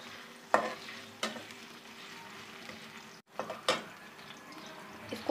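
Onion paste fries lightly in a pan with a soft steady sizzle, punctuated by a few sharp stirring scrapes and clinks, close and fairly quiet.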